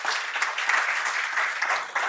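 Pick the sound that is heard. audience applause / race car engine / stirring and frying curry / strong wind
audience applause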